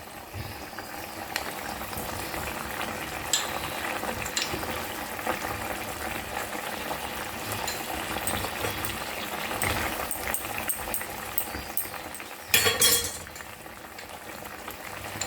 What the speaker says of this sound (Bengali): আর 2-3 মিনিট ফোটাবো